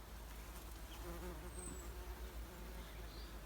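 Bees and flies buzz around flowering crocosmia in a garden, a faint continuous insect hum with a few passing drones over low outdoor background noise.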